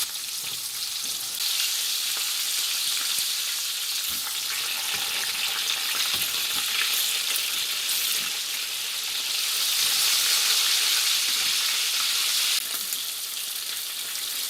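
Chicken pieces browning in a frying pan give a steady, loud hissing sizzle throughout, with occasional soft knocks and shifts, close up and with no talking.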